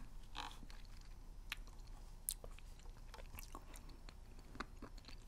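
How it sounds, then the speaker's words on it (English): Hard, crunchy mints are chewed close to the microphone in a quiet ASMR setting, giving scattered sharp crunches and bites over a faint hiss with no talking. "These are all hard, crunchy mints, and the first one I had just melted."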